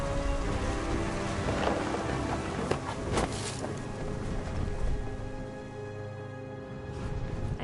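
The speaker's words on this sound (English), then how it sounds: "The thunder sounded much too close and full of angry power." Thunderstorm with steady heavy rain in the video game What Remains of Edith Finch, a constant rushing downpour with low rumbling thunder rolling through it and brief sharper cracks, loud and enveloping without speech.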